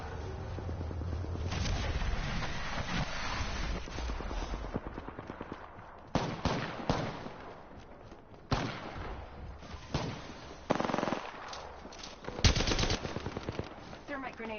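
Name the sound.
minigun gunfire in the video game Apex Legends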